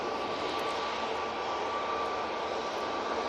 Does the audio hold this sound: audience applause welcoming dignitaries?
no